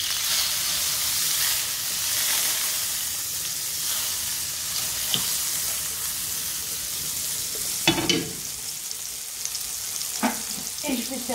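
A thick côte de bœuf sears in olive oil and butter, giving a steady loud sizzle with a few sharper crackles and spatters near the end; no one speaks.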